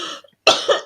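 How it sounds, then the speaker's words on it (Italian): A person coughing up close: a brief faint sound, then a loud harsh burst of coughing followed by one more short cough, with no talk. "Un colpo di tosse."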